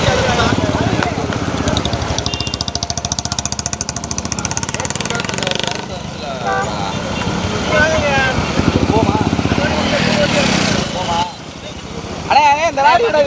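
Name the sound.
motorbike passing by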